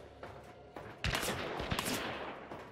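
Gunfire in a video game crackles in several quick, sharp bursts, with a cluster of louder shots in the middle that sound moderately distant against quiet surroundings.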